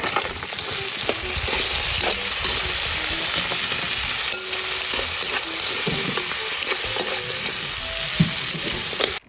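Kalantogas and chopped squash sauté together in a hot pan, a loud steady sizzle running throughout with frequent scraping and clinking stirs, close and continuous without pause.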